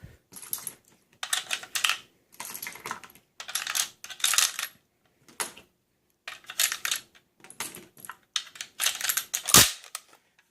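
Rifle cartridges pressed into an AK magazine with a modified SKS-style speed loader set against a hard stop: repeated close bursts of rattling metallic clicks and clinks, with short pauses between them and one sharp clack near the end.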